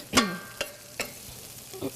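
Food sizzles in a hot frying pan while a utensil stirs it in four quick scraping strokes, each a short sharp swish over the steady crackle.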